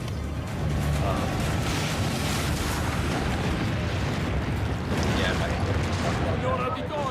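Booming cannon fire and explosions in Assassin's Creed Brotherhood, a steady loud rumble of blasts and crackle with a voice speaking over the battle noise.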